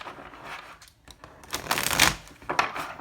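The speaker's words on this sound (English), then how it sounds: "Let me shuffle these cards really quickly." Tarot cards being shuffled close by: several quick papery riffling bursts of varying loudness, building to a fuller flurry near the middle, with no voices.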